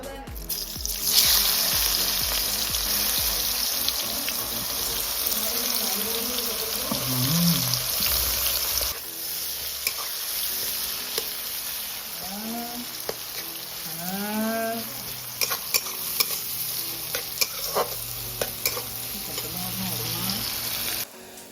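Onion fries in hot oil for a crab curry, a loud, continuous hiss and crackle that runs throughout, with brief voiced sounds and faint background chatter appearing in the second half.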